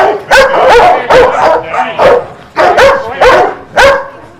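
A sheriff's K-9 search and rescue dog barks loudly and close by, with about six sharp barks in an uneven rhythm, some ending in a yelping whine.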